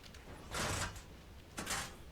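Door opening in the survival video game ARK, heard as two separate bursts of sliding, grinding mechanism noise about a second apart, fairly quiet and alone.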